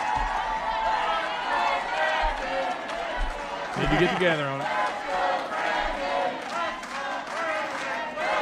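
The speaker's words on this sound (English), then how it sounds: "Listen to the crowd." A live crowd chants and cheers, forming a dense, rolling roar with rhythmic swells. Someone talks over it in the foreground.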